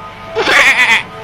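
A small goat bleats once, a short wavering cry up close, loud and alone against a quiet background.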